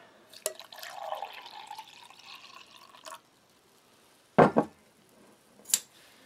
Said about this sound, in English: Throw some water in there.